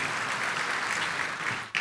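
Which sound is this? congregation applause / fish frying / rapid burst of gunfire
congregation applause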